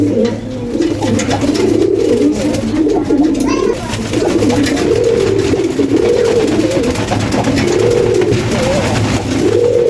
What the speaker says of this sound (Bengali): এই ডাকটা এই এক কারণেই সেটাকে থাকে এরকম আর কোনো সময় ডাকে ডিম পাড়ার সময় হলেই এরকম সে ডাকে